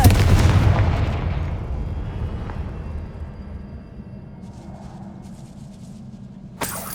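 A Confringo fire spell from the Hogwarts Legacy video game detonates at once with a loud, booming explosion. The blast rumbles and slowly fades over several seconds, then a sharp burst returns near the end.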